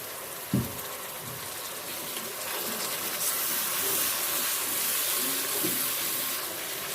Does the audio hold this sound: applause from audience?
no